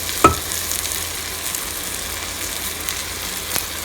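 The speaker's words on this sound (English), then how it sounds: "Slowly add all the rice, around 2 cups of rice for this much quantity." Rice is added to a very hot pan for chicken fried rice, with a steady sizzle and frying hiss and a couple of sharp stirring clanks.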